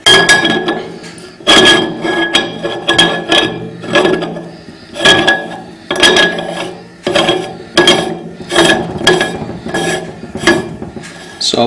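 A glass lid goes onto a distillation pot holding orange skins and lemon peel, making a series of loud, close clinks and knocks in irregular bursts with short pauses between them.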